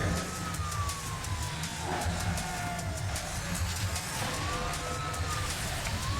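Police sirens wail with rising and falling tones over a steady engine roar during a street race in the Midnight Club 3 DUB Edition video game, sounding continuously throughout.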